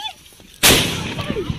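After a quiet moment, one sharp, loud Diwali firecracker bang bursts nearby, followed by a short crackling echo.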